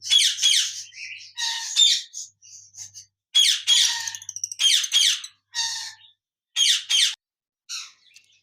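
A pair of Lutino Fischer red-eyed lovebirds in a cage squawk loudly and close by, in repeated harsh bursts with brief pauses between them.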